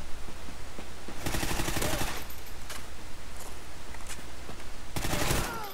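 Honey Badger rifle fire in a Call of Duty match, with two or three short bursts of rapid automatic shots over steady game ambience, interspersed with faint single cracks.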